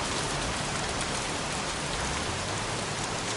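Heavy rain pours steadily in the Heavy Rain video game, a dense, even hiss of drops on surfaces with no break and no voices.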